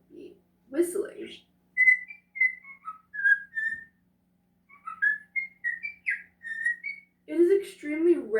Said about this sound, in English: Usually male cockatiels will be the ones who will be whistling.